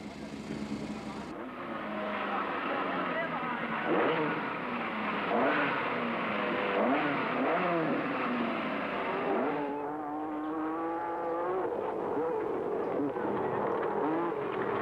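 A 1970s Lancia Stratos rally car races along a rally stage, its engine revving hard with rising and falling pitch sweeps as it accelerates and shifts, loud and continuous beneath a commentator's voice.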